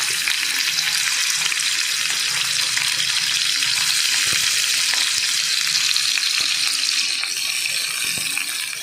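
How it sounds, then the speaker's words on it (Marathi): Chopped onion and garlic dropped into hot oil for a Maharashtrian clam masala, giving a loud, steady, close sizzle that holds through the whole stretch with light stirring and no voice. "तेल गरम झालेलं आहे. आता त्याच्यामध्ये हे कांदा आणि लसूण घालून घेऊया."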